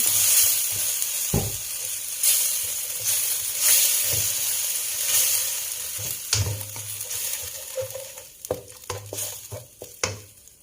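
Chili paste of blended boiled ingredients stir-fries in a pan for a fish curry noodle sauce. It makes a continuous sizzle broken by repeated close scrapes and clacks of a spatula against the pan, growing busier toward the end.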